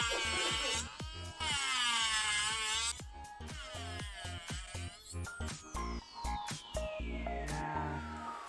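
A purple 5-in-1 tapered carbide nail drill bit filing down extension gel nails, a high whining buzz that starts and stops in short bursts and shifts in pitch as the speed changes, close to the microphone.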